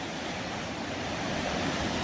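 Waves lapping steadily at a fine-sand river beach, a continuous broadband wash with wind rumble and no talk, fairly close and constant throughout.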